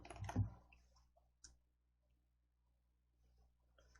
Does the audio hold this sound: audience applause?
no